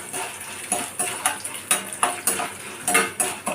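A spoon scrapes and clinks in a pan while dry red chilies and chana dal are stirred over heat, a quick irregular series of close metallic knocks and scrapes with a soft sizzle beneath.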